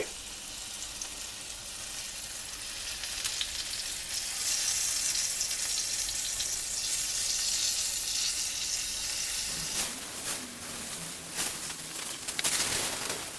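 Pancakes sizzle steadily in a hot pan, a continuous close crackle of frying, with a few clinks and scrapes toward the end.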